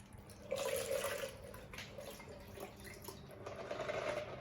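Water poured from a set height during a hydropower lab demonstration, a soft steady splashing stream that swells and fades, fairly faint and heard alone without talk.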